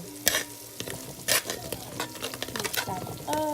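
Metal utensil scraping and knocking at stuck-on food on the bottom of a cooking pan, a run of sharp clinks and scrapes in irregular bursts over a light sizzle, close and fairly loud.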